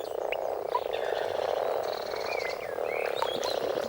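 Common frogs at a breeding pond give a dense, continuous chorus of croaks, with scattered brighter calls rising over the steady low chatter throughout.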